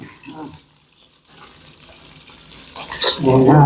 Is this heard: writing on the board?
no